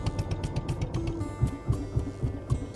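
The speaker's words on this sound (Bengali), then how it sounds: "আমাদের বোট রাইড চালু হয়ে গেছে।" Motorboat ride at Lalganj sea beach heading into a sea creek: a steady engine drone with rhythmic low thumps and a constant hum, close and moderately loud, no talk.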